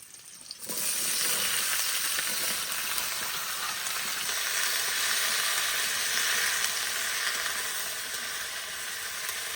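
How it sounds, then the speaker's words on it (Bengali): Taro stolons sizzling steadily in hot oil with onion, green chili and garlic, a loud, continuous frying hiss that starts abruptly and holds close and even throughout, with no talk. "এবার কচুরলতি ভেজে নেবো একটু ভালো করে"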